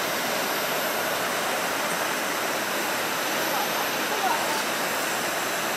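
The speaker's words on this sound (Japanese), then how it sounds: "あ、滝みたいになってる。" Water pours steadily in a continuous broadband rush, like a small cascade nearby, with no distinct pauses.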